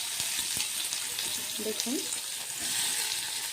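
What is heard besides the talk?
chopped onion frying in oil with dried chilli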